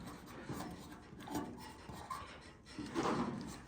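A paint marker scratches and rubs across a GMC truck tailgate in freezing weather as names are written, producing short uneven scraping strokes with small pauses between them, close and fairly quiet.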